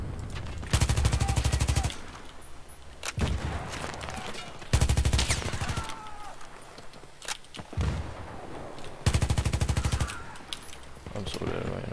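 ACW-R rifle fire with holosight, foregrip and heavy barrel in Battlefield 3: three loud, rapid automatic bursts a few seconds apart, with scattered single shots and distant battle noise between them.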